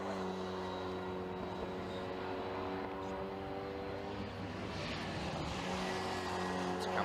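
A race car leading a club race at Castle Combe circuit sweeps through a corner, its steady loud engine drone holding a constant pitch throughout, with crowd and ambient circuit noise around it.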